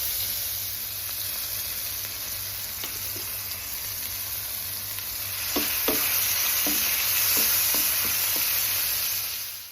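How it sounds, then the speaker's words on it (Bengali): Cumin seeds tempering in hot oil give a steady frying hiss that thickens midway, with scattered quick pops and crackles and a few scraping stirs, heard close with no talk. "জাস্ট গরম তেলে জিরে ফোড়ন দিয়ে দিলাম"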